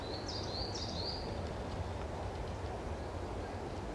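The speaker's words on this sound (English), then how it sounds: "just adding simply some winter bird sound effects to it" Winter bird calls, a couple of quick chirping whistles, sound early over a broad, steady hiss of wintry forest ambience, faint and somewhat distant, then fade, leaving only the low rushing background.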